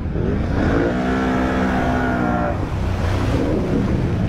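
A Honda Outlander ATV engine revs loudly and continuously as it struggles through deep water, its pitch rising and falling up close.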